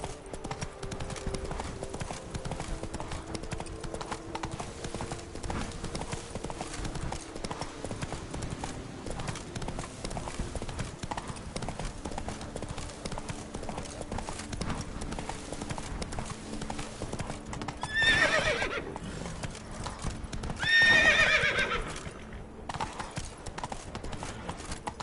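A horse gallops in The Witcher 3 video game, a steady rhythmic clip-clop of hooves with game ambience, and two brief louder bursts like snorts or whinnies near the end.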